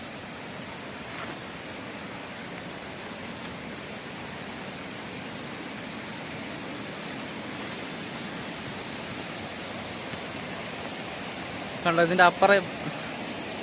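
The 56 waterfall at Painavu, Idukki, gives off a steady, even rush of falling water, broad and constant at a moderate distance, with a short burst of nearby speech near the end.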